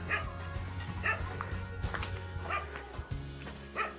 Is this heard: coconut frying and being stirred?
no